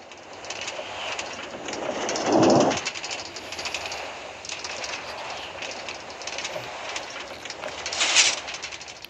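A Metro Line 1 train runs with a steady broadband rumble and hiss, swelling briefly twice as it moves, with no voices over the noise.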